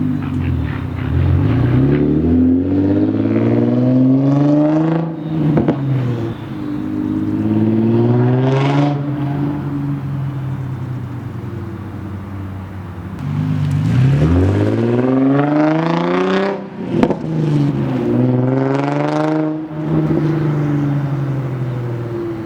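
An Infiniti G35 fitted with a budget aftermarket exhaust, heard from a distance, repeatedly revving and pulling away, each rising engine note swelling loud and then falling back, several passes with no talking.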